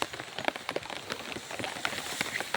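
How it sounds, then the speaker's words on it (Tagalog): Steady rain falls on a farm in Barangay Sta. Rosa, Balangiga, Eastern Samar, a continuous broadband patter dotted with sharper nearby drop impacts throughout, with no talk. "Umuulan dito guys ngayon."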